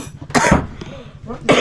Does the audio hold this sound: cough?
yes